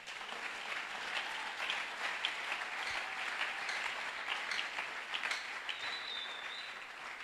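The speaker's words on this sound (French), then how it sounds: "On peut acclamer, pourquoi pas." A church congregation claps together in sustained, even applause that carries on throughout at moderate volume, with a faint voice briefly rising over it.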